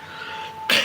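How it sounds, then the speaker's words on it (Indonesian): A single short cough bursts out at the end of a quiet stretch with a steady tone, close and fairly loud, during a gaming session. "Batuk"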